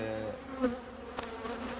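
Honey bees buzz steadily inside an opened hive during a warm January inspection, a continuous close drone with individual bees passing near, heard alone.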